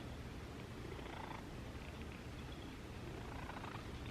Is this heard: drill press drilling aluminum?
no